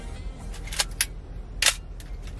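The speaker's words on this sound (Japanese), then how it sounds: "シャッター音も非常に、いいものになりますね。" Nikon F3 film camera firing its shutter: a few quiet, crisp mechanical clicks up close, spaced apart over a soft room hush, with no talking.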